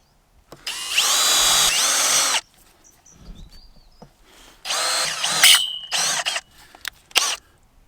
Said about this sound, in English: I just got a little 5mm pilot drill.